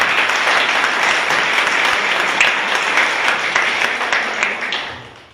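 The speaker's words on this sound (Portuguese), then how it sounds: "Vamos aplaudir o Senhor Jesus." Church congregation applauding during a Sunday morning service at an Igreja Internacional da Graça de Deus in Ouro Preto, loud, dense clapping heard close, sustained before fading out at the end.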